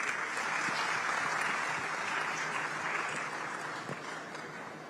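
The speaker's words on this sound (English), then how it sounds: "A round of applause, please." Sustained applause from a conference audience at a cultural diaspora event, steady and dense throughout, easing slightly toward the end.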